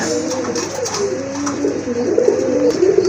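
A male pigeon at a pigeon seller's coos in a series of close, low, throaty repeated calls, rising slightly in strength toward the end, over faint room background.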